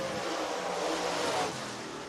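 Race car lapping Lake Cumberland Speedway in Burnside, Kentucky, a loud engine roar swelling as it passes, then easing off as it moves away.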